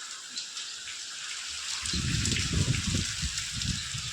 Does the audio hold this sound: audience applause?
no